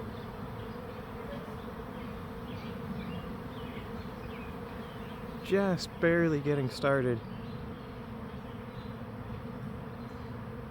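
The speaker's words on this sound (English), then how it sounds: "A few bees are finding the trap there." A honeybee swarm drones around a backyard swarm trap nest box, many bees buzzing continuously near the listener, with someone briefly talking over the hum partway through.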